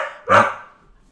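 A single loud dog bark, sharp and close, rising suddenly and then fading quickly into a quiet room.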